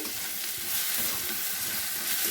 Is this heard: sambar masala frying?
yes